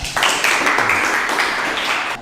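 Students in a teacher-training class applaud a classmate, a close, steady burst of many hands clapping that holds evenly for about two seconds.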